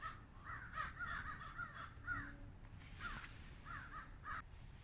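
Several crows caw outdoors at an abandoned asylum, their harsh calls coming in irregular bursts, some overlapping, at a moderate distance.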